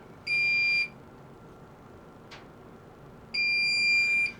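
A Minelab Pro-Find 40 pinpointer gives two loud, bright electronic beeps as it enters ferrous tone ID, each lasting about half a second or more. A quiet gap with a faint brief click separates the two.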